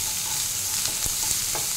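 Garlic and onion frying in a pan for mixed fried rice, a steady bright sizzle with a few soft stirring scrapes, close and continuous with no talking.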